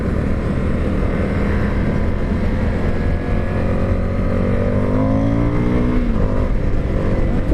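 A 2020 Indian FTR1200 motorcycle accelerating onto a freeway, loud engine roar with rising revs through gear changes and rushing wind, no voices.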